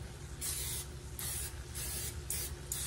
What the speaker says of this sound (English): Now I'm going to spray this a little bit.